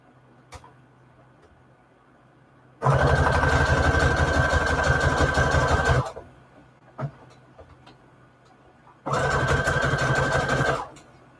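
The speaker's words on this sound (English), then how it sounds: "so let's sew these up" A sewing machine stitches Christmas junk journal embellishments in two loud, close bursts, first about three seconds of rapid steady whirring, then a shorter run after a pause, with faint clicks in between.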